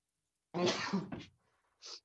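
A single sneeze during a city advisory council meeting, a loud close burst with a quick catch at the end, followed after a short pause by a faint brief sound.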